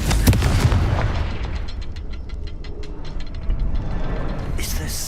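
Confringo blasting-spell explosions in Hogwarts Legacy, a dense run of booming blasts and crackling pops rolling together loudly throughout, with a rapid train of impacts in the middle and a fresh burst near the end.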